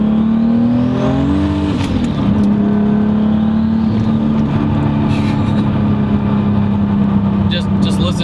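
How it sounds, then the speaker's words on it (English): A 1995 Toyota Supra with a 2JZ engine and Boost Logic exhaust revs loud and close, its tone sweeping up and settling into a strong sustained drone. Occasional sharp pops and crackles cut in, and someone talks over it. "The exhaust on this car is Boost Logic, and it sounds wonderful"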